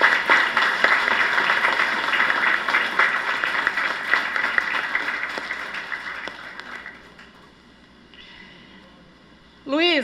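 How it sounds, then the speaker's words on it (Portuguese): An audience claps in sustained applause at a 15th birthday party, gradually fading away, leaving a quiet room before a voice starts at the very end. "nós pudéssemos dar uma salva de palmas para esse amigo todo especial."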